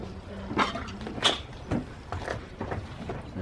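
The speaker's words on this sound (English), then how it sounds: "The door card just comes away." Clips on a 2002 Toyota Yaris (Vitz) rear door panel popping loose as the trim is pried off: several sharp plastic snaps spaced irregularly, close and fairly loud, with faint handling noise between them.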